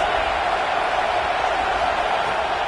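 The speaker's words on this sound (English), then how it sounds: "This crowd trying to make life miserable for this offense." A packed stadium crowd at an Ohio State football game roars in a steady, continuous wash of noise, loud and distant-sounding, with no break across the moment.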